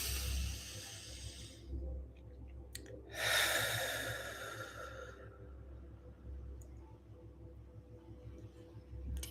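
Slow, deep meditative breathing close to the mic: a long audible exhale with a soft hiss, a pause, then a stronger sighing breath out, over a faint steady hum with no talking.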